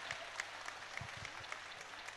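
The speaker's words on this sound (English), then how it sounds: "Crowd applause in this," Spectators at a Muay Thai fight night applaud after a five-round bout, a thin, distant patter of clapping with a few sharper claps and low thumps from the hall.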